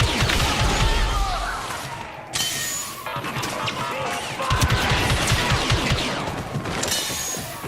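Blaster fire and explosions in the Star Wars Battlefront 2 video game, a dense, loud, continuous barrage of rapid shots and crashing impacts filling the whole stretch, no talking.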